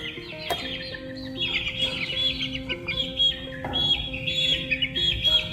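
Several two-month-old village chickens (ayam kampung) cluck and chirp repeatedly at close range, overlapping in busy bursts with no one talking.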